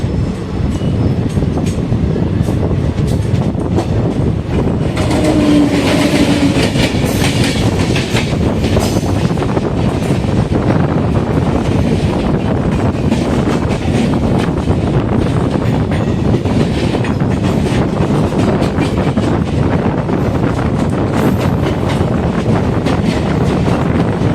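The Dhanbad–Alappuzha Express, train 13351, runs through a station in a loud, sustained rumble with rhythmic clickety-clack of wagon wheels on rail joints and heavy wind buffeting the microphone throughout.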